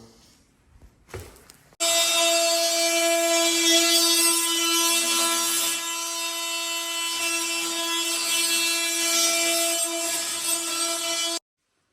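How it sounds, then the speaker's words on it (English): A power saw cutting electrical cable trunking at a large building site during first-fix wiring, loud and close, with a steady high whine that starts abruptly and runs for about ten seconds before stopping. "get those last bits of track cut"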